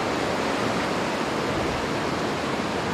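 Water rushes down a small natural rock water slide in Meadow Run creek, a dense, steady hiss of flowing water, close and constant with no other sounds.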